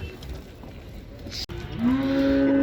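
At the Uzynagash livestock market near Almaty, a calf or bull lets out one loud, drawn-out moo in the second half, rising over the steady murmur and clatter of the market.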